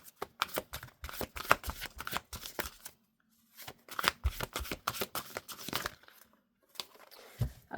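Tarot cards being shuffled by hand, with repeated brisk riffling and papery flutters in bursts, one short pause partway through, close and fairly quiet, no talking.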